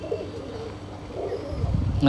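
Pigeons kept for sale coo in soft, low, rolling murmurs, faint and close, with a brief clatter near the end.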